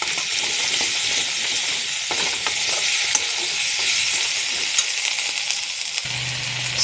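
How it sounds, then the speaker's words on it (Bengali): Ginger, chili and cumin paste frying in a pan while being stirred, giving a steady, close, loud sizzle with scattered scraping clicks of the spoon throughout and no talk. "এবার আমি আদা লঙ্কা জিরা পেস্টটাও আমি দিয়ে দিচ্ছি। সব কিছু এক এক করে দিয়ে ভালো করে নেড়ে চেড়ে নেব।"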